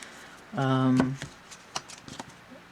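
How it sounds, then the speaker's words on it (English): A deck of Gilded Reverie Lenormand cards, crisp and of medium thickness, gets a quick riffle shuffle, one brief ripple of flicking cards followed by a few light taps and shuffles close up. "But they're very easy to shuffle."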